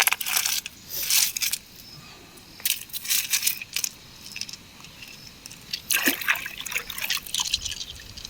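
Gem-bearing gravel tipped into water in Sri Lanka makes clattering, splashing bursts of rattling stones and trickling water, several separate pours close by with no talk.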